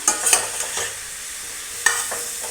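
Utensil scrapes and clacks against a pan while bitter gourd with chilli powder and turmeric sizzles and fries, a few sharp stirring strokes over a steady hiss.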